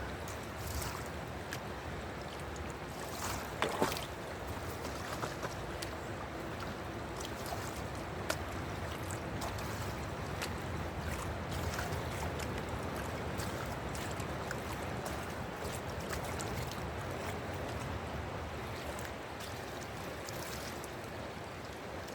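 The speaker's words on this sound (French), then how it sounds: "Le petit rinçage tranquille." A small gold-panning sluice ramp is rinsed in water, giving a steady, soft wash of flowing and splashing water with no voices.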